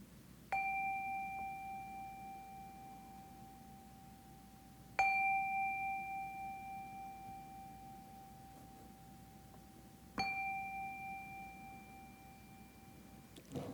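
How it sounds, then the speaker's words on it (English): A meditation chime rings three times during a Unitarian Universalist Sunday service, each clear metallic strike sustaining a long steady tone that fades slowly before the next, about five seconds apart, in a quiet room. "let us settle our minds and calm our hearts with the ringing of the chime."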